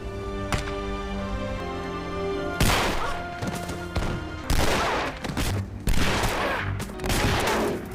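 Gunfire crackles through a film scene as a wizard shoots a woman, with several sharp loud bursts over a droning score, then heavy reports and impacts spaced through the second half.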